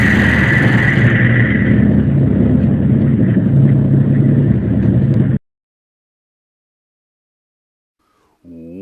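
Top Fuel dragster engine roaring at full volume during a warm-up, a thick, continuous close-up rumble that stops abruptly as the fuel runs out, followed by near silence.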